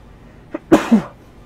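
A single sharp human sneeze, preceded by a brief intake of breath and ending in a voiced tail, loud and close in an otherwise quiet room.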